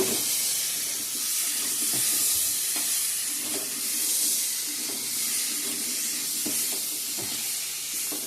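Water hitting a hot pan of spiced, fried-down curry, a continuous loud hiss and sizzle with faint clatters of stirring mixed in.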